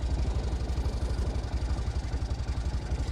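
A cheap Chinese 2014 250cc Roar scooter that runs very hot and is still being broken in idles nearby. Its engine gives a loud, steady, low pulsing rumble with a fast even beat and no talk over it.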